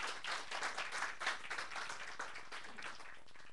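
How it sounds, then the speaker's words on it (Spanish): Church congregation clapping for the Lord, many hands applauding in a dense, fairly even burst that carries on steadily, heard at a distance and somewhat faint, with no speech over it. "Dele un aplauso al Señor si lo crees así."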